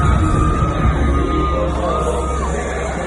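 Crowd going wild at a rap concert in Chicago, a loud dense roar of yelling and cheering voices over booming bass music, sustained throughout without a break.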